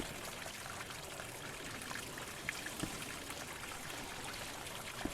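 Clean water pours steadily into a sauna in the game Sunset Motel, a continuous close stream with a few faint drips over it and no talk.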